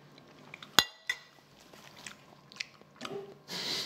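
Someone eats a homemade lunch: a sharp clink of cutlery on a dish, then soft crunchy bites and chewing at close range, with scattered small clicks and a rustle at the end.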